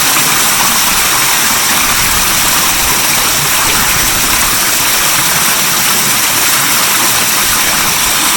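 A Speck Badu Eco Touch variable speed pool pump running at its lower 1900 RPM preset makes a loud, steady, close hiss and rush with no break.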